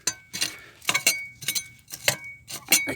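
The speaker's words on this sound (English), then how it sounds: "And here's the glass. Ooh, it's coming apart." Burnt glass fragments from a wildfire test in Lahaina, Maui, clink and chink together as they are handled and break apart, giving a run of sharp, bright, irregular taps at close range with no talk.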